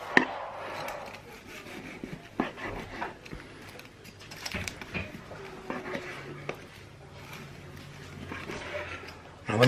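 Corned beef being sliced against the grain with a knife, giving soft scattered cuts and board taps at close range, with faint background noise and no talk.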